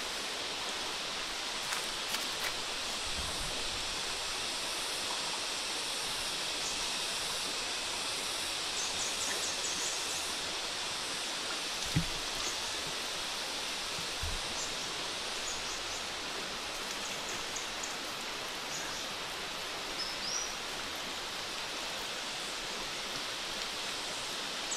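Ubot Falls waterfall in Maria Aurora, a steady broadband rush of falling water that stays constant and moderately loud throughout, with a few faint knocks and no talking.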